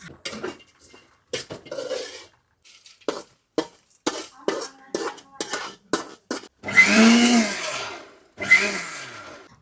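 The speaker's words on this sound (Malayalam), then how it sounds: "ചെമ്മീനും ഇത്രയും ചേർത്ത് വറുത്തിട്ട് ഇനി പൊടിച്ചെടുക്കും" A mixer grinder whirs in two short bursts as it grinds fried dried shrimp, coconut, shallots and chilli into a chutney in an Alappuzha kitchen. Clinking utensils and scattered knocks come before the bursts.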